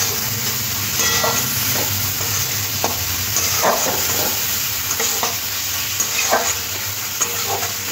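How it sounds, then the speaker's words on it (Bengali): Fried potatoes are stir-fried with spice paste and a pinch of sugar for a tangra fish curry. A loud, continuous sizzle runs under repeated scraping strokes of a spatula against the pan. "আলুগুলো খুব ভালো করে মশলার সাথে একটু কষে নেব।"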